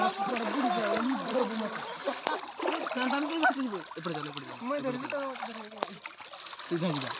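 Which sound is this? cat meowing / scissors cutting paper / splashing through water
splashing through water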